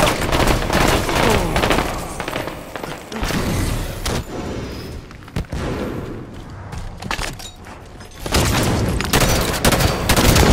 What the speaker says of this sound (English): Blue base is under fire.